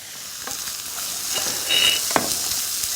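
Beef with onion, carrot and celery stir-frying in a pan, a steady broad sizzle with a few sharp clicks and scrapes of stirring, close and moderately loud with no talking.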